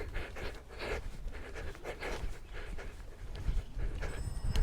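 Heavy, rhythmic breathing from a man in the middle of a no-equipment HIIT fat-burning workout, with quick, rasping pants repeating close to the microphone and no talking.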